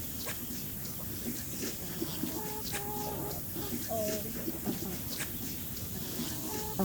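A chicken held on grass clucks in soft, irregular short calls, close and fairly clear over a steady outdoor background.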